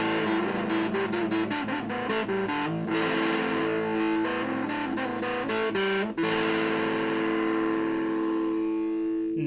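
Distorted electric guitar chords in a first-position chord run through a Washburn Blues Overdrive pedal ring out in a steady strummed sequence, thick and saturated, sustaining loudly throughout.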